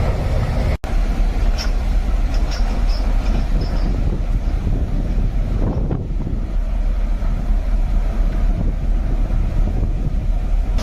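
An icebreaker ship powered by Wärtsilä engines grinds through thick ice, a loud continuous low rumble with wind noise across the microphone and a brief creaking sweep midway.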